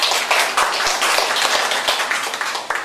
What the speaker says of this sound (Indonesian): Tepuk tangan dulu buat Bu Erita.